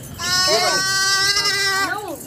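Goats bleat in a farm herd, two or three long wavering calls close by, loud and clear over a low background.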